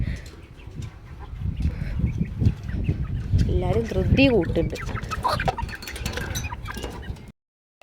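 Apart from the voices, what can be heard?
chickens clucking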